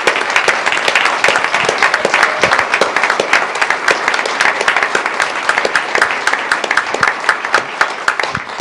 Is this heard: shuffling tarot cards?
no